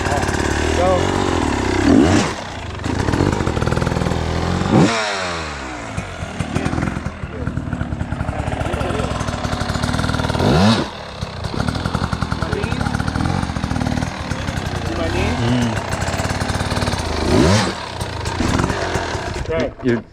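An enduro motorcycle on a hard enduro trail, engine revving loudly in repeated sharp throttle bursts and revs, with several distinct surges over a continuous engine roar and a voice talking at times.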